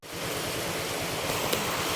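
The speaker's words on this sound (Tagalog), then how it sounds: "Umuulan." Steady rain falling, a constant soft hiss of drops that holds even throughout with no voices.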